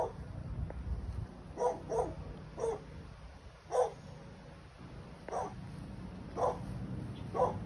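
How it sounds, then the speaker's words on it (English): A dog barks in short, spaced yaps at moderate distance, about eight barks over a low steady background hum. "Might be able to hear the dog next door saying hello."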